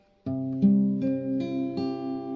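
A ringing B barre chord on guitar strummed several times in succession, each strum adding a bright attack over the sustaining chord, close and clear.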